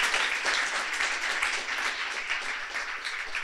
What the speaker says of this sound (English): please give a big round of applause for these 6 great young people